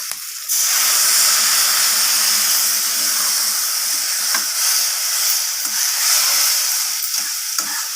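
Okra and fish roe in a Bengali vegetable chorchori sizzle steadily in a hot pan while being sautéed, a continuous close frying hiss after a short quiet start, with occasional stirring scrapes and no talk.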